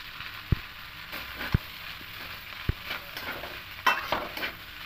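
Pasta with vegetables being stirred in a pan, soft close sizzling with a few sharp knocks of a spoon against the pan and scraping strokes, steady and fairly quiet.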